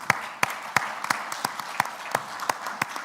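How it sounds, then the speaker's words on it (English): Audience at a climate adaptation investment summit for Africa applauds its panelists, with sparse, distinct claps standing out at a steady rhythm above a softer bed of clapping throughout. "maybe a final round of applause for our panelists"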